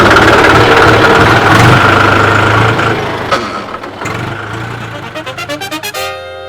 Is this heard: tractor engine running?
yes